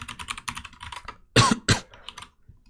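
A person types steadily on a computer keyboard with rapid clicking, then coughs twice in quick succession, close and loud, before the typing resumes faintly.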